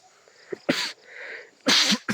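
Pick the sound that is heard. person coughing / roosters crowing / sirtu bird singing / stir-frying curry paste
person coughing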